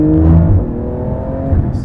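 Porsche 991 GT2 RS, a 700-horsepower road car on track, with a loud, close engine note and steady rising harmonics as it accelerates hard, with no talking.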